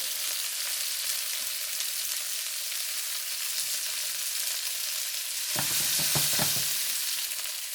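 Onions browning in a pan with oysters, giving a continuous hissing sizzle that swells briefly with a few stirring knocks near the end.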